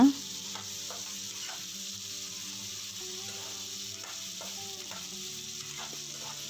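Poha upma ingredients fry in an oiled pan with a constant, even sizzle and occasional soft stirring scrapes, heard up close and alone.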